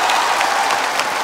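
A studio audience at a live Trans Media anniversary broadcast claps in a thick, even burst of applause that fills the brief moment without a break.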